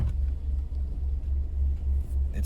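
A 2013 Ford Escape with a transmission fault idles low in gear, giving a deep steady rumble with slight wavering, heard close up with no talk.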